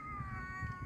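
A large cat meows in a long, drawn-out tonal wail beside a drain, faint and somewhat distant over low background rumble, with no talk.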